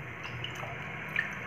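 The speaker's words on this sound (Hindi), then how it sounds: "अब इसका सारा पानी निकाल देते हैं" Water draining from washed paneer being prepared for rasgulla, a faint trickle and light dripping with a few soft splashes near the end.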